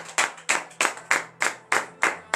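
Worship congregation clapping in unison at a morning prayer service, a crisp rhythmic beat of about three claps per second repeating evenly.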